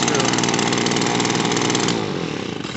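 Echo PB-200 handheld power blower engine held near full throttle after carburetor repair, a loud steady two-stroke whine close by that eases off slightly toward the end.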